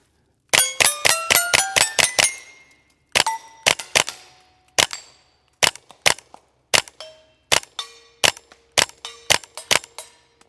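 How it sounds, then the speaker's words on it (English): A Ruger Charger pistol chambered in .223/5.56 fires a loud string of shots: a fast burst of about seven at the start, then spaced single shots and double taps, each followed by a ringing metallic ping from steel targets. "Let's finish the video off with a little bit more shooting."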